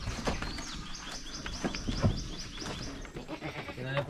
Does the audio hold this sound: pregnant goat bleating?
yes